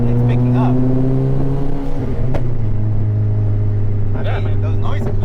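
Turbocharged 2017 Honda Fit engine pulling under acceleration, a steady droning tone that shifts pitch as revs change, heard from inside the car with faint chatter.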